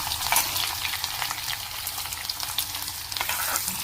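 Chopped onions and dried red chillies sizzle and crackle steadily in hot oil in a pan while being stirred, a loud, continuous frying hiss with no talk.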